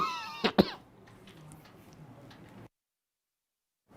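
Two sharp coughs close to the microphone, followed by low background murmur and then near silence.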